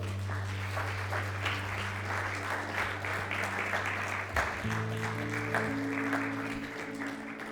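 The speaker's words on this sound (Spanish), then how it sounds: "Denle un aplauso al Señor." A church congregation applauds together in a steady wash of clapping that holds evenly throughout, with sustained organ or keyboard tones underneath.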